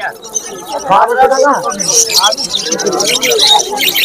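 Lovebirds at a crowded pet market in Uluberia, their high chirps and tweets rising in short bursts beneath loud, continuous talk from nearby people.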